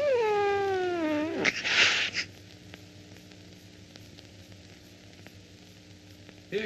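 A cat meows in a long, wavering, rising-then-falling cry, followed by a burst of hiss-like noise, then a quiet, humming room; heard in a 1944 horror film.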